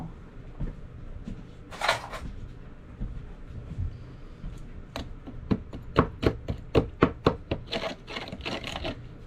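Quick clicking, knocking taps and scrapes of a stick stirring soil with chunks, leaves and a rock inside a testing jar, irregular at first and then a rapid run of close, sharp strokes.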